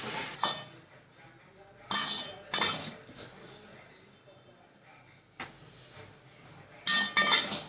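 Metal utensil scrapes and clinks against a pan while stuffed ridge gourd curry is served out, in a few separate bursts with quieter gaps between them.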